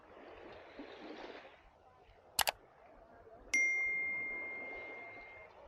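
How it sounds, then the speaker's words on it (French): Ocean waves at Thong Son Bay beach wash softly and swell, then recede. Two quick metallic dings break in midway, followed by a sharp ring that settles into a long, steady tone. "je vais arrêter de parler 2 minutes et on va juste entendre les vagues"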